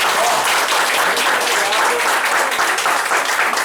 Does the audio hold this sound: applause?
yes